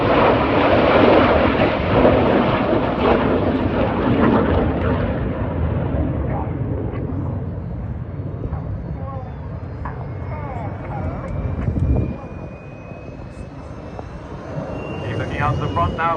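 Red Arrows jets roar overhead at an airshow while flying tight barrel rolls, a loud sustained jet rumble that slowly fades and shifts in pitch as the aircraft pass, with a commentator talking over it.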